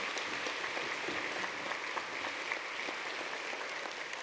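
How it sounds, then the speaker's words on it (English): Applause from the audience at a charity luncheon honoring Melanie, a dense, steady patter of many hands clapping throughout, fairly distant and even, with no voices over it. "Let's do one more round of applause for Melanie"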